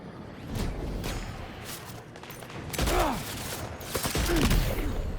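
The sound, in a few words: tranquilizer dart gun shots in video game Death Stranding 2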